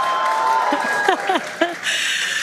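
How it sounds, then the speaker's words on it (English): A crowd at the fourth SpaceX Starship test launch in Boca Chica, Texas cheers and applauds in a continuous wash of noise while someone speaks over it. "you can hear the crowd is very excited about it"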